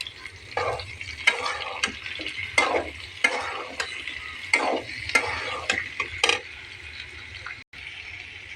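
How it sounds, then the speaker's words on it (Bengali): Potatoes frying with chopped onion in a pan, a steady sizzle broken by repeated scraping strokes of a spatula stirring, close and clear with no talking. "আলুটাকে একটু ভেজে নেব।"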